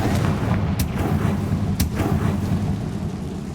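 Confringo fire spell explosions in the Hogwarts Legacy video game: a dense, booming, thunder-like rumble with two sharp cracking blasts punctuating the continuous roar, loud and close.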